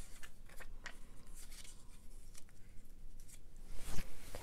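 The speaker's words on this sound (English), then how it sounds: "I'm going to tear this one as well." Paper being torn by hand while making a Dollar Tree file folder journal, a series of short ripping rasps and crinkles ending in a louder tearing burst, close, with no talking.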